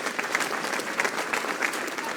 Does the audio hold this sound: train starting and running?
no